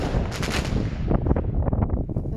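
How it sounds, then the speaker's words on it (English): Fireworks bursting on the night of 4 November, a dense run of sharp cracks and bangs, loud and close, with a bright crackling burst early and repeated thuds trailing off. "Send us more fireworks."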